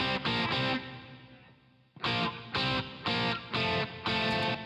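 Electric guitar through a reverb send in Cubase, heavily distorted, playing a sustained passage that fades into a reverb tail, then five loud, evenly spaced chopped chords ring out, each followed by a brief gap.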